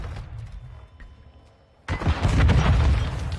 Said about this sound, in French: Ça joue roquette.